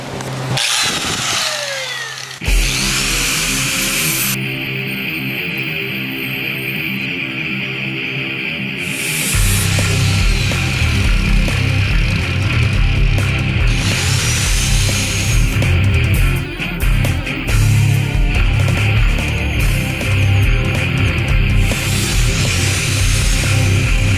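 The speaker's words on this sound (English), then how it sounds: "this just makes wicked dust when you're sanding Bondo" Loud, continuous whine of a power sander grinding Bondo body filler off a 1965 Mustang, holding steady for a long stretch with shifts in pitch and pressure.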